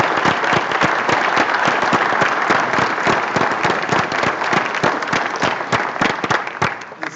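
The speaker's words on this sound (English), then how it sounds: "it is fitting that we thank them with a round of applause for all they have done" A large audience at a medical school oath and hooding ceremony applauds in a loud, dense, sustained round of clapping that fades slightly at the end.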